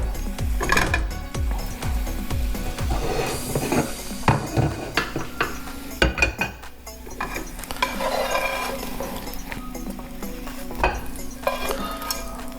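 Shishito peppers, salted with kosher salt, are tossed and scraped from a hot oiled pan onto a plate: repeated clattering metal and pan knocks over a steady background sizzle, close and fairly loud, with no talking.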